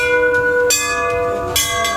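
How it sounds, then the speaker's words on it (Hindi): A temple bell at Kuleshwar temple rings out clearly, struck twice with a long shimmering ring between strikes, close and loud. "ले घंटी बजा दो"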